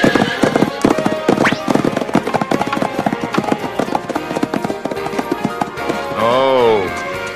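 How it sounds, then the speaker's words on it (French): Horse hooves clip-clop steadily on hard ground in a period drama scene, with a horse whinnying near the end and background music and ambience throughout. "Gilles, mon cheval."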